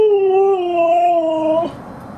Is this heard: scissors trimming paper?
no